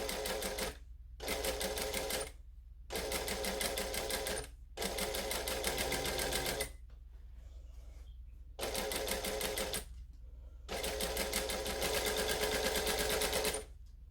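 A sewing machine stitches a garment in bursts of steady whirring, stopping and restarting several times with short quiet gaps between runs, close and fairly loud.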